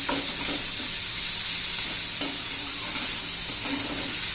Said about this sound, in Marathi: कांदा चांगला आपल्याला तांबूस रंगावर भाजून घ्यायचा आहे